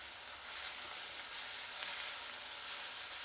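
Sliced onions with a little turmeric frying in hot oil in a pan for a bitter gourd curry, giving a steady, soft, continuous sizzle and hiss with occasional brief crackles and no voices.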